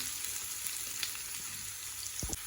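Steady sizzling of onions sautéing in hot oil for Chettinad crab pirattal, a dense crackling hiss close by with a brief stir or scrape near the end.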